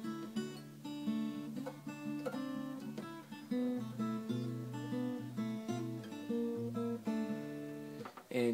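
Fingerpicked acoustic guitar in open D tuning: a steady pattern of plucked notes and ringing chords, close and clear, with no voices.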